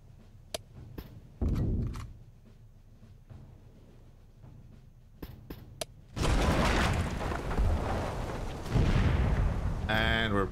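Heavy naval guns fire in the World War II sea battle game Victory at Sea Atlantic, with a deep boom early on and a massive, rumbling salvo later that rolls on through repeated blasts; a voice may be heard faintly underneath.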